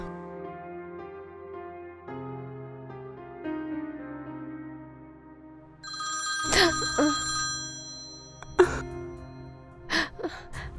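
A telephone rings with a repeating melodic tone for several seconds, steady and fairly close. It then gives way to a few sharp vocal bursts, such as gasps or exclamations.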